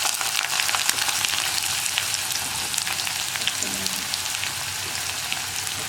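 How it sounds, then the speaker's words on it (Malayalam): Sliced onions sauté in hot oil in a pan, giving a loud, steady sizzle close by with faint stirring. "നമുക്കിനി സവാള ഇട്ട് വാട്ടിയെടുക്കാം."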